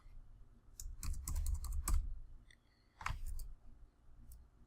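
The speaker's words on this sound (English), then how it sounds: "you can just type in Amazon" A computer keyboard clatters in two quick bursts of typing while a stock name is entered on a trading app, with crisp key clicks close by over a low background hum.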